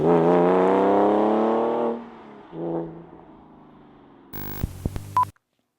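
An old Porsche 911 engine revs hard, the pitch climbing loudly before falling away, then a short second rev and some clicks and rattles near the microphone.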